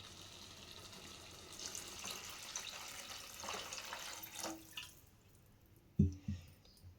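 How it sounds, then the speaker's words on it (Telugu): Water poured into a pot of masoor dal and ridge gourd curry gives a faint, quiet trickle and splash that builds and then stops, followed by a couple of soft knocks of the pot or lid. "ఇప్పుడు మనం వాటర్ వేసేసుకుందాం దీంట్లోకి"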